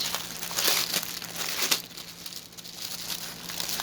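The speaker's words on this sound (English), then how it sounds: "At least it didn't fall apart when I tried to get it open." Crinkly plastic bag from a pre-stamped cross stitch kit being opened, with close, loud crackling and rustling throughout and a few sharper crinkles, no talk.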